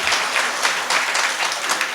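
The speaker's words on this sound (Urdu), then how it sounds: "اپنے لیے ایک بار تالیاں بجائیے." An audience at a mushaira poetry gathering at a literary festival claps steadily, a dense, loud wash of applause that lasts the whole stretch with no break.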